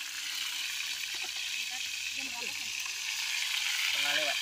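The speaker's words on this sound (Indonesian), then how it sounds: "Sekarang kita goreng tahu." Tofu frying in oil in a pan at a mountain campground, a steady hiss of sizzling running throughout at moderate level, with brief clatters of utensils and people talking over it.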